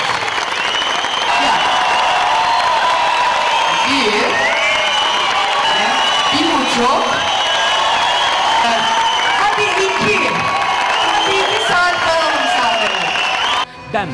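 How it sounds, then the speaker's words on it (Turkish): A crowd of holidaymakers applauds a stage act at an open-air cinema in Antalya, with dense, sustained clapping, scattered cheers and whoops, and voices mixed into the din. "Ben böyle alkışa kurban olurum"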